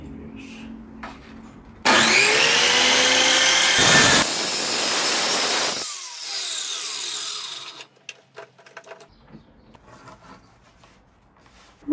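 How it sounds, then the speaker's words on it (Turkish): A circular saw riding on a sliding jig bites into wood for a few seconds of loud, high whining cut, then spins down and falls quiet, followed by faint scattered handling knocks. "Kızakla sistem oluşturduk ve bu şekilde kesimimizi sağlayacağız."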